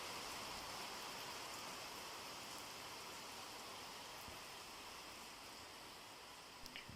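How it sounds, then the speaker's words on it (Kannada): Heavy monsoon rain pours outside a house in the Sakleshpur Malnad hills, a dense, even hiss of falling water that holds steady throughout and eases only slightly near the end. "ಯಪ್ಪ ಸಖತ್ ಮಳೆ ಬರ್ತಾ ಇದೆ."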